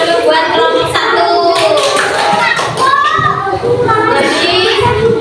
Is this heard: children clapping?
yes